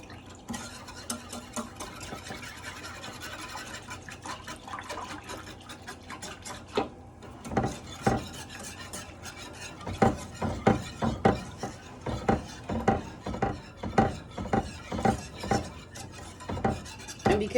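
Coconut cream pie filling stirred constantly in a pot, a spoon scraping and swishing in a quick, steady rhythm that grows louder and more regular, close up with no speech.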